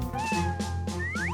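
A kitten gives a quick run of high, thin meows, four short cries in close succession, near and clear.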